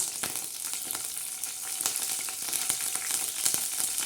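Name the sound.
curry leaves sizzling in hot oil for tempering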